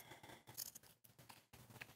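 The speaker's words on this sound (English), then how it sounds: "You want to be careful using the scissors, just not to cut yourself." Scissors cut through jeans denim in short snipping bursts, several close crisp cuts with brief pauses between them, quiet and with no talking.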